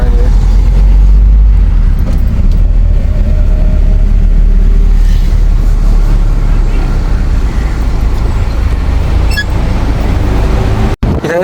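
Road traffic passes along a narrow, congested road in Negombo, a continuous loud low rumble of engines and tyres throughout, with no one speaking over it.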